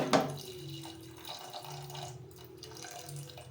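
Water is poured into a pressure cooker holding potatoes and salt for boiling. It makes a faint, steady trickling splash that runs through the whole stretch, with no talking.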